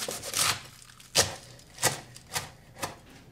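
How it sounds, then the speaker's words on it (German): A knife finely chops kale on a cutting board in five distinct, evenly spaced strokes, close and crisp with no talking. "Dann braucht ihr 200 Gramm Grünkohl, welchen ihr ebenfalls relativ fein schneidet."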